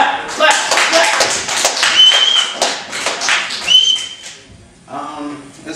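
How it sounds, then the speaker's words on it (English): Audience at a comedy show claps in dense, rhythmic bursts, loud and close, with whistles and people talking over it before a short pause. "Clap! Clap! Clap!"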